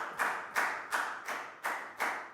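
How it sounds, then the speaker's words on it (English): Classroom applause for a primary maths lesson: a few hands clapping in a steady rhythm of about six evenly spaced claps, faint and close together, with no talking. "A round of applause for everybody because you remembered very well."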